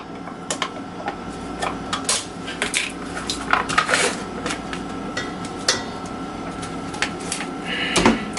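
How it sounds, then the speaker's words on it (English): A tablespoon drops and clatters against dishes and kitchenware while sour cream is being added for a meatball bake, giving scattered close metallic clinks and knocks with a sharper clank near the end. "the tablespoon goes falling on me"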